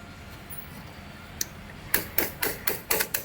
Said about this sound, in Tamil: இந்த செயின் லிங்க்கை வந்து இந்த இடத்துல கட்டிங் பிளேடில் வந்து இந்த இடத்துல வச்சுட்டு இப்படி பிடிச்சி ரொட்டேட் பண்ணோம்னா செயின் லிங்க் வந்து ஈஸியாக கலண்டு வந்துடும்